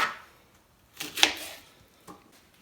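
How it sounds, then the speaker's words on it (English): A kitchen knife slicing Brussels sprouts on a board, a few crisp cuts with a sharp double chop in the middle and a softer one near the end, close and fairly quiet. "The Brussels sprouts are all sliced and ready to go into my container here"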